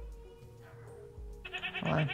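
A goat in the Minecraft game bleats once near the end, a short, wavering cry over a quiet, low game background.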